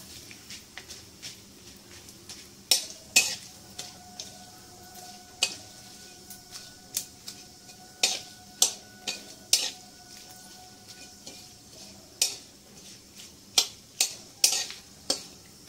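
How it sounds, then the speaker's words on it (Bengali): Bay leaf and two dried red chillies frying in hot oil for shukto, a low steady sizzle broken by repeated sharp metallic clinks and scrapes of a spatula against the pan, close and without speech. "তার সঙ্গে তেজপাতা আর দুটো শুকনো লঙ্কা। এটাকে 2 মিনিট ভালো করে ভেজে নেব।"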